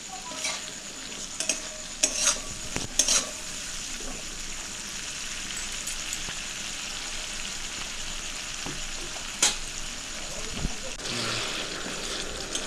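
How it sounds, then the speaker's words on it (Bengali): Spice paste with green chillies is stir-fried in a pan, a constant sizzling hiss broken by sharp scrapes and knocks of the spatula against the pan, loud and close, with no talking. "ভালো করে মশলাটা কষে নেব।"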